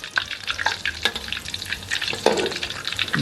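A crab omelette fries in hot oil in a wok as it is rolled and shaped, giving a steady crackling sizzle broken by sharp scraping clicks of a metal spatula against the pan, close and fairly loud.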